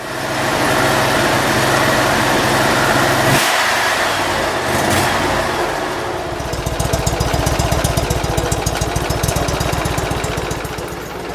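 A 2006 Mud Buddy HD Mini surface drive boat motor runs loud and close, a steady engine drone that briefly dips, then settles into a rapid, even chugging idle.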